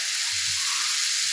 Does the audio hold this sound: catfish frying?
yes